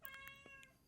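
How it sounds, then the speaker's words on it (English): A cat gives one or two short, faint meows, brief and somewhat distant, over a steady humming background. "cat!"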